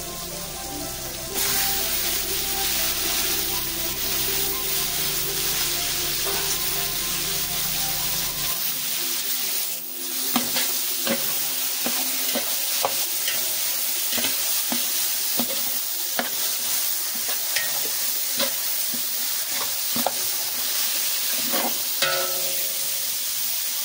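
Marinated chicken sizzles loudly in a hot pan while a spatula repeatedly scrapes and clanks against the metal, stirring at an uneven rhythm.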